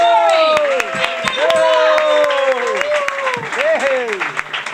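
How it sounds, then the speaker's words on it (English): Audience at a comedy club applauds as a comedian named Zury is brought on stage, steady clapping running under a loud announcer's voice throughout. "Crowd, a huge goddamn round of applause."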